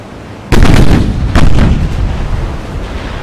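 A warship's 7-inch guns fire two heavy, booming salvos in Ultimate Admiral: Dreadnoughts, close and loud, each one followed by a long rumbling decay.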